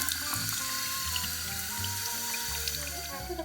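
Cold water hisses and sprays steadily from a spray bottle, close by, with a watery rush that holds the same level throughout and no voices.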